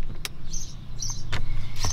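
A BMW F10 with the N57 diesel engine cranks without catching, giving a steady low mechanical churn for about two seconds, with a few sharp clicks and brief bursts over it, close by in a workshop.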